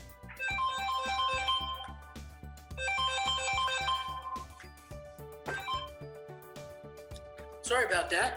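A mobile phone ringtone plays loudly in repeated melodic bursts, cutting in over an ongoing talk about listening skills, with a voice speaking beneath it.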